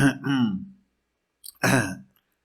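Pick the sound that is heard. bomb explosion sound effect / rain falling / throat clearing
throat clearing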